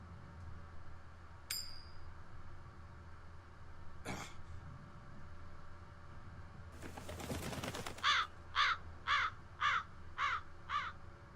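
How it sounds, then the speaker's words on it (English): A crow in the video game Tales of Berseria gives a run of six harsh caws in a steady rhythm near the end, after a rustling flutter and a few scattered sounds over a quiet background hum. "That crow just flew off with the coin!"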